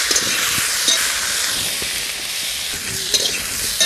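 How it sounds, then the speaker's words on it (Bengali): Salted cauliflower pieces with turmeric fry in hot oil in a wok, giving a loud, steady, hissing sizzle with occasional faint stirring clicks and no speech. "কপিগুলো ভাজা হয়ে গেছে"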